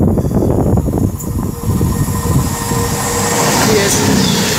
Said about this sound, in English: Now approaching is going to be a cross-country super voyager.